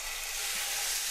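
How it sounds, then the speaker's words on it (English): Beef searing in a really hot frying pan, a steady hissing sizzle of spitting hot fat, close and continuous over a brief moment. "now we have to seal it in a really hot frying pan"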